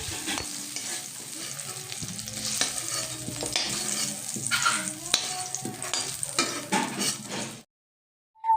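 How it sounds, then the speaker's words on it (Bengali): Potatoes fry in oil in a pan for a cauliflower dish, a steady close sizzle broken by repeated clinks and scrapes of a stirring spoon against the metal, ending abruptly in near silence. "আলুটাকে আজকে একটু কড়া করে ভেজে নিতে হবে"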